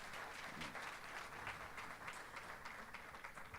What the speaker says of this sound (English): Let us applaud and appreciate Waziri for his presence.